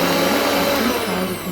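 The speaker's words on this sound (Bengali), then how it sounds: "একটু মিক্সিটা চালিয়ে দিয়ে" An electric mixer grinder whirs steadily, pulverising roasted black cumin seeds in a home kitchen, with a continuous loud motor hum and a slight drop in pitch near the end.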